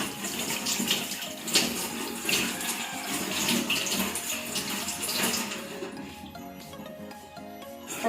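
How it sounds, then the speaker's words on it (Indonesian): Tap water runs steadily over hands being rinsed during a nursing handwashing procedure, a close, continuous splashing flow that eases and thins out over the last couple of seconds. "Dan bilas sampai bersih."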